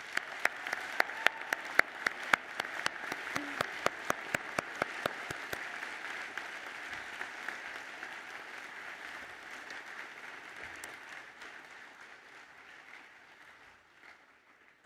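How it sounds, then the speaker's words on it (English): Audience applause at a College of Medicine and Public Health graduation ceremony, dense clapping from a large crowd with a few sharp nearby claps early on, steady for several seconds before gradually thinning and fading out. "Please join me in applauding their remarkable achievements."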